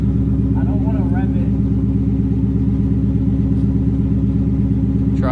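A Jeep engine idles and revs with its Mustang exhaust removed, giving a steady, loud, throaty rumble that holds level throughout, with brief voices over the top.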